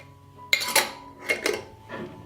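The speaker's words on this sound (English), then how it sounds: "I will close with clean and new lids that I have sterilized in boiling water for 10 minutes." Sterilized glass jars of preserved peppers being closed with new metal lids, giving a few separate sharp clinks and metallic scrapes close up in a quiet room.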